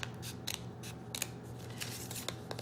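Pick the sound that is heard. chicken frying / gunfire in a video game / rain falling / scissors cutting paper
scissors cutting paper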